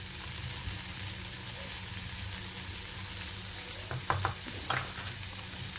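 Poha with softened tomato and turmeric stirred in a pan, a steady low sizzle running throughout, with a few sharper spatula scrapes near the end.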